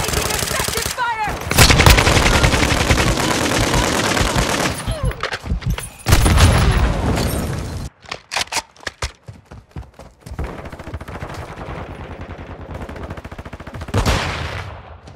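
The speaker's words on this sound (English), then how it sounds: "Taking effective fire." Automatic weapon fire crackles in loud, rapid bursts during a Call of Duty Modern Warfare II house battle, dropping out briefly and returning, with game voices calling out in between.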